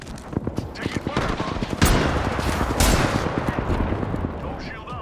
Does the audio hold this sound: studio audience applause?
no